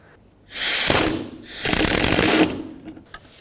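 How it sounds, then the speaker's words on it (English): A 3/8 inch air gun with a socket spins off an alternator bolt on a 2001-2007 Volvo V70, two loud close rattling bursts of about a second each with a short pause between, then faint clicks. "sneak in a 3/8 inch air gun here with a socket on it"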